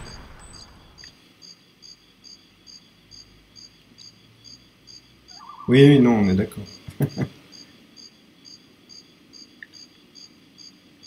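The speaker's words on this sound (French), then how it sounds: "une cigale extrêmement réputée dans le monde entier pour son bruissement bien spécifique" A Cuban cicada in GoldenEye 64 gives a rhythmic, repeating high-pitched chirp that pulses faintly throughout, and a person speaks briefly partway through.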